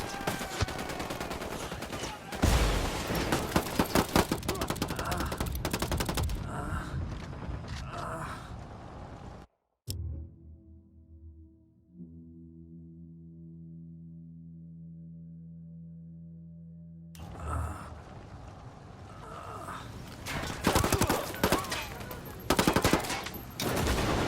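Bursts of automatic gunfire in the tactical shooter game Ghost Recon Wildlands, loud and dense for several seconds, then a quiet stretch with steady tonal game sound, before heavy firing resumes with scattered sharp shots.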